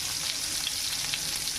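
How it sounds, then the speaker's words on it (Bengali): Bitter gourd slices fry in a pan, giving a steady, soft hiss and crackle of sizzling oil that goes on without a break and with no one talking. "এবার আমরা কমিয়ে ভাজা হতে দেবো"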